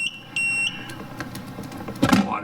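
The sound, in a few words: power inverter beeping, overloaded by a coffee machine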